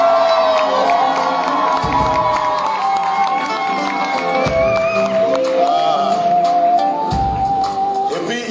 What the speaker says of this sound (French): Donnez-moi des acclamations.